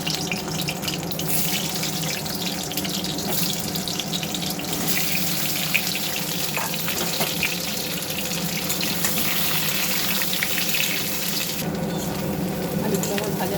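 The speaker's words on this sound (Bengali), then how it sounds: "আমি এগুলোকে হালকা লাল লাল করে একটু ভেজে নেব।" Peeled potatoes frying in oil in a pan, a steady dense sizzle running throughout at close range with occasional stirring, no talk.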